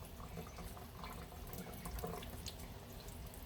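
Running water from a tap rinses etching cream off a piece at a sink, a steady close splashing flow that continues without a break.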